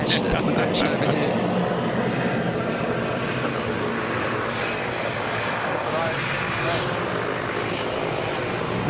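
A small Dash 8-200 turboprop airliner at Sydney Airport makes a steady, loud engine roar that holds throughout, with people talking nearby over it.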